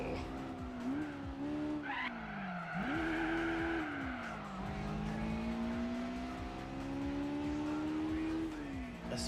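A race car on comfort tires in Gran Turismo 4 on PS2 revs up and down in steady, loud gear-shift sweeps, with tire squeal and skidding running beneath it throughout.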